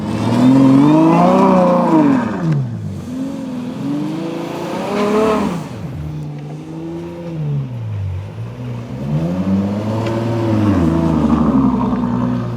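A V12 Ferrari roars as it slides and accelerates, its engine note climbing and dropping through repeated loud, close revving sweeps with a brief lift in the middle before pulling hard again.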